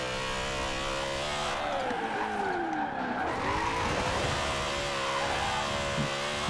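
A BMW Z4 drift build in Forza Horizon 4 holds a constant, loud engine drone while its tires squeal and skid through a slide in the middle. No one talks.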